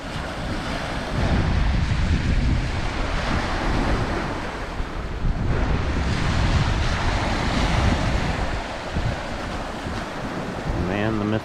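Waves wash steadily onto a Lake Superior shore, a continuous loud rush of surf mixed with strong wind buffeting the microphone.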